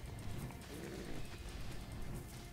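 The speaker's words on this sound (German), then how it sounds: "Versuche, ein Pferd zu töten." Hooves of a horse in the video game Ark: Valhalla, a busy run of muffled clip-clop steps with game ambience around it, moderately loud and continuous for a couple of seconds.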